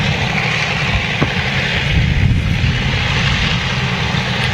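The engines of an Avro Lancaster bomber run during a live engine start and taxi run, producing a loud, steady, close droning roar that fills the whole stretch.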